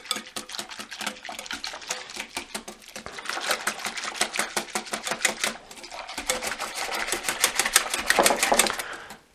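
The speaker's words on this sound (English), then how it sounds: "So as I stir up the blooming gelatin" A spoon stirs blooming gelatin for homemade Jello in a kitchen bowl, producing rapid, steady clicking and scraping taps close up, continuing in dense bursts with brief pauses and no talking.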